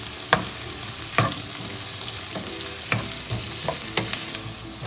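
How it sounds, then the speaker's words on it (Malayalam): Prawns stir-fry on a high flame for a Chinese-style dish, crackling steadily in hot oil while a spatula strikes and scrapes the pan at irregular intervals, close up with no speech. "കുറച്ചൊരു ഹൈ ഫ്ലെയിമിൽ വെച്ചിട്ട് നന്നായി ഒന്ന് ഫ്രൈ ചെയ്തെടുക്കാം"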